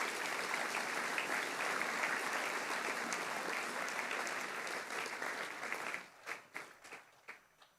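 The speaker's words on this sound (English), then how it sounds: "Could we please give these students a round of applause?" Audience at a school assembly applauding with sustained, dense clapping that holds steady for several seconds, then thins into a few scattered claps as it dies away.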